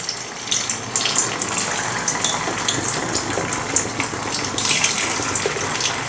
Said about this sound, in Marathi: यामध्ये आता आपण ह्या हे मुटके तळून घेऊयात